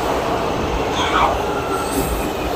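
A São Paulo metro train passes close by at a station, a steady loud rumble of wheels on rail with brief high squeals, a faint voice barely audible beneath it.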